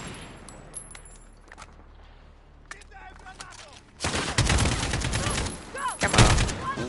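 Heavy gunfire in Call of Duty: Warzone breaks out after a quieter stretch of scattered game noise, becoming loud sustained automatic fire with dense rapid shots toward the end.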